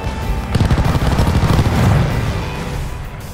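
A hostile aircraft strafing run in a Call of Duty Vanguard multiplayer match on Dome: a loud rapid burst of gunfire and booming impacts that swells and then fades out, with no talking.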